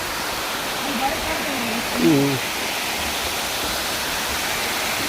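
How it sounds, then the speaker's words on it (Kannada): Water falling onto rocks at Siddharamappa Kola pond near Srisailam, a steady broad rushing hiss throughout, with a brief voice speaking over it partway through. "ಓ ನೀರು ಬೀಳ್ತಾ ಇದೆ ನೋಡಿ"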